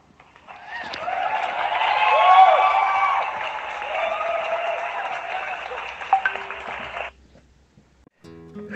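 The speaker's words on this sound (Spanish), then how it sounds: "Un aplauso, por favor." Audience applause at a staged interview with President José Rufino Echenique, a dense sustained wash of clapping that swells for about seven seconds, then stops abruptly.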